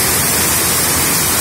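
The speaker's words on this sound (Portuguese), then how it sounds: "Estou aqui na principal cachoeira do Arrozinho" The main waterfall of Córrego do Arrozinho roars in a dense, steady, loud rush of falling water, close and unbroken.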